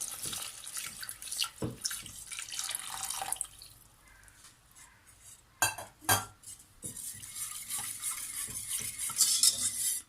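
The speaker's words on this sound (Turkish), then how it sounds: "Unumuzun topaklanmaması için biraz bu şekilde karıştırdım" Roasted flour being stirred into cold milk for zucchini soup, with light scraping and clinking strokes and splashy stirring that come and go, close, with no talk.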